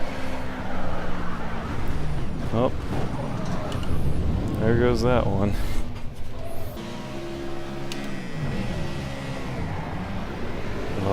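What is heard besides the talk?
Ford Cobra Trans Am engine in video game Project CARS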